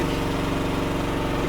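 A loud, steady mechanical engine drone with a rumbling, throbbing low end as a Chinese mini excavator's hydraulic pumps engage, running continuously, close by and without any talking.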